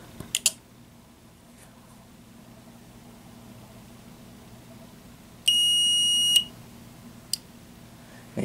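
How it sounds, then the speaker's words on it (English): One electronic buzzer beep lasting about a second sounds alone in a quiet room, with a few faint clicks before and after it. "Right here is the buzzer, or the beeper, whatever you want to call it."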